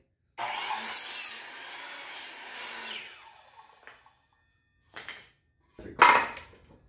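A saw cuts a board to length along a marked line, a steady broadband rasp for about three seconds that tapers off, followed by a couple of short, louder knocks or bursts.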